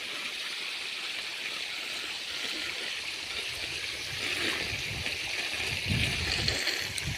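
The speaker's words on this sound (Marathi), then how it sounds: "समान पाणी चालतंय" Steady broadband rush of irrigation water flowing evenly through furrows in a maize field, running continuously and swelling slightly toward the end.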